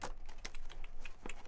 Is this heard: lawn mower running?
no